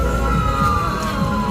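An ambulance siren at a temple festival near Vattappalai, Mullaitivu, sounds a steady, continuous wail at close range over crowd noise, with no talking.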